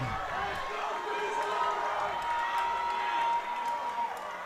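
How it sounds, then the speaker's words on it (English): High school football crowd at a Troy vs Foothill game, a loud sustained roar of cheering and whoops, with a commentator's voice running over it throughout. "Crowd is loud."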